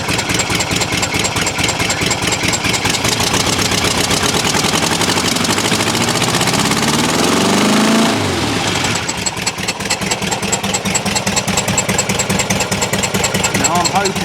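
A VW T2 camper engine with a dead cylinder idles close and loud, its steady rhythmic chuff from the exhaust pulsing throughout, briefly dipping midway before resuming the same uneven beat.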